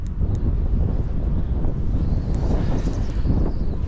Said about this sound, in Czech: to je vichr